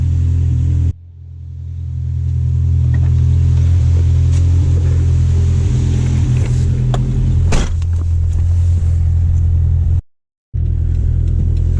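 A boosted Toyota AE86 engine idles warmed up with a deep, steady rumble close by, briefly cutting out twice; a faint rev swells near the middle.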